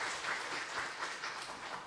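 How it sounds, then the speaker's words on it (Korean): A church congregation welcomes a new staff member during a Sunday worship service with sustained, even clapping from many hands in the sanctuary, heard at a modest, somewhat distant level with no voices. "큰 박수로 환영하겠습니다"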